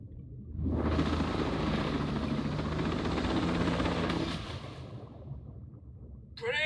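A drone in the video game Ghost Recon Breakpoint flies with a loud, steady rotor whir that holds for several seconds, then drops off sharply, leaving a quieter hum.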